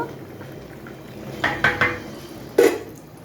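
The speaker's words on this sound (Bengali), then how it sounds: "আন্দাজ মতো লবণ দিয়ে আমি তো ভাতটাকে একটু নেড়ে চেড়ে দেব" A pot of nearly cooked rice for biryani is stirred, with a few sharp clinks and knocks of a utensil against the metal pot over a quiet kitchen background; no voices.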